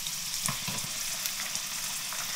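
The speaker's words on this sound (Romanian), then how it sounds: "pun broccoli în tigaie" Broccoli sizzles in a pan with garlic fried in olive oil for orecchiette pasta, a steady close crackle of frying with occasional stirring clinks and pops.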